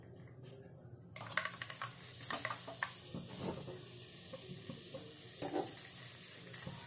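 Fenugreek seeds crackle and sizzle in hot oil, with a few sharp pops and a light stirring clatter, close and fairly quiet.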